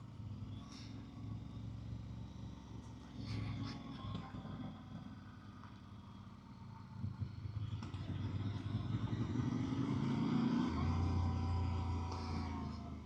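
A Voge 300 Rally motorcycle rolls downhill on gravel in first gear, its single-cylinder engine burbling low and steady under engine braking, swelling louder toward the end, with tyre crunch and wind alongside.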